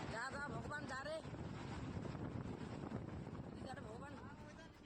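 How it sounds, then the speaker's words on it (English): Strong storm wind roars steadily and loudly throughout, buffeting the microphone, while a voice talks over it. "It's just wind."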